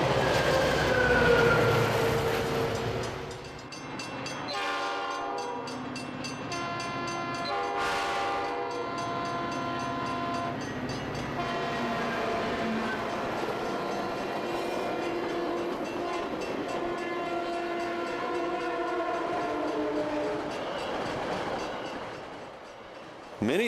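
A Metra commuter train on the Milwaukee West route in Chicago rolls past close by, the loud rumble of its wheels running steady throughout. Its horn sounds in long repeated blasts, and the noise fades as the train moves away.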